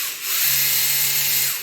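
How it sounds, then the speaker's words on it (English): A 1:24 scale FMS Max Smasher RC truck with an upgraded high-speed motor, spinning up to a steady, close, high-pitched electric whine that holds level for over a second before tapering off. "High-speed motor, definitely an improvement"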